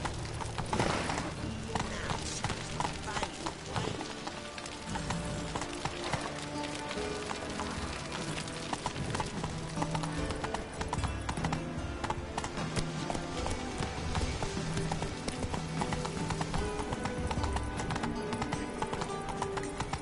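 Roach the horse's hooves clop steadily in The Witcher 3, a continuous galloping beat under game music and ambience, with occasional voices speaking.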